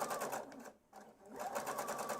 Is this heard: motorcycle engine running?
no